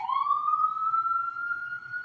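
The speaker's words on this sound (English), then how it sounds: "I don't know if you can hear that siren." A loud emergency siren holds a long, slowly rising wail, close and clear with no talking over it.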